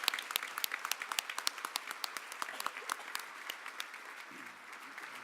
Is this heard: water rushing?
no